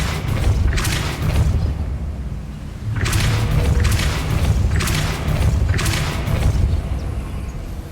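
Depulso force-push spells cast in the Hogwarts Legacy video game, four loud bursting whooshes at fairly even intervals over a steady low rumble of game ambience.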